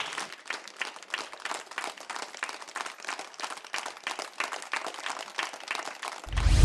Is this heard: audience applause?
yes